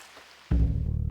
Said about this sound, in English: Of course, it starts raining.